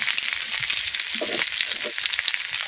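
Onion and potato pieces fry in oil in a kadhai, giving a steady close hiss and sizzle with faint stirring scrapes throughout, no voices.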